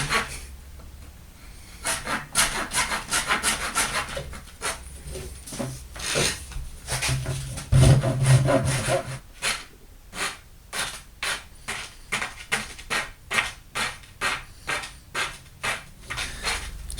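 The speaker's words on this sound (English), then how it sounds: "4-way with the rasp really helps right here" A rasp files a red oak longbow limb, heard alone as a close, loud run of rhythmic wooden rasping strokes. Longer, heavier passes come first, then a steady series of short, evenly spaced strokes.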